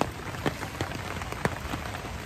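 Heavy rain pours outside a school, a dense, steady wash of drops on surfaces with a few louder splashes, continuous and fairly close, with no talk.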